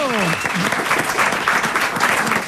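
Studio audience applause on a French comedy panel show, loud continuous clapping, with a voice speaking briefly at the very start.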